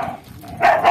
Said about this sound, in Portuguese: Eita, esses cachorros são...